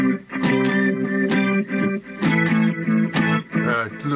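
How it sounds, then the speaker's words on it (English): An electric guitar solo played through an Electro-Harmonix B9 organ machine pedal carries far too much echo, so its sustained, harmonically rich notes smear and repeat in a steady melodic line with no one talking. "A little too much echo there."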